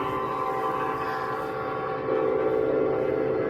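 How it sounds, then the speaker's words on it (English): A train passes somewhere in Henry County near Atlanta, Georgia: a steady, loud rumble with sustained tonal drone bands that swell slightly louder partway through, with no talking. "I hear a train."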